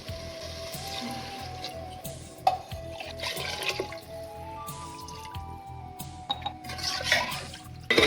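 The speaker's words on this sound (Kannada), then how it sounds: "ಒಂದೂವರೆ ಲೋಟ ಅಕ್ಕಿಗೆ ಅದೇ ಲೋಟದಲ್ಲಿ 3 ಲೋಟ ನೀರನ್ನ ಹಾಕೊಳ್ತಾ ಇದ್ದೀನಿ" Water is poured from a tumbler onto soaked rice in a pot for tomato bath, making a close trickling, splashing pour with dripping and liquid sloshing throughout.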